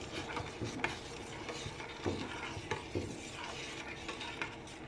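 Steady scraping and stirring of sugar syrup for gulab jamun in a pot, with soft irregular clinks of a utensil against metal and a faint sizzling hiss underneath.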